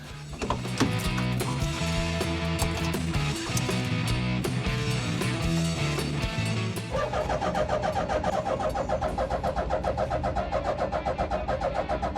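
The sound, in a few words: superbike engine starting in a Peugeot 106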